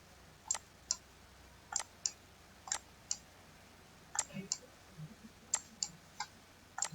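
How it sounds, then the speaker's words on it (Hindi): Sharp keyboard key clicks while working in Photoshop, several quiet taps in small irregular clusters against a faint background hum. "मैं यहाँ पर ऑल्ट की प्रेस करूंगा, कीबोर्ड के ऊपर दबाए रखूंगा ऑल्ट की"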